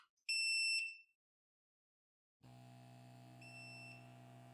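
Creality Falcon A1 laser engraver powering on: two short bright electronic beeps, then a pause of silence before a steady low hum of the machine starting up, with a faint high tone joining later.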